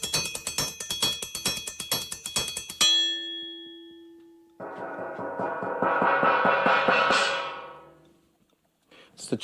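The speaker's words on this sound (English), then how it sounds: "It's the cheapest gong you can ever have." Cheap gong struck repeatedly in a quick rhythmic run, then one hit left ringing out, followed by a longer swelling shimmering crash that slowly fades, loud and close.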